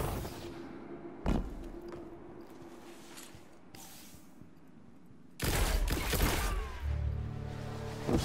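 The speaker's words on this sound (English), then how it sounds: "Why are you shooting?" Gunfire in the video game Zero Hour: a single sharp shot, then a stretch of quieter ambience before a burst of rapid, loud shots with rattling debris, close and without talk.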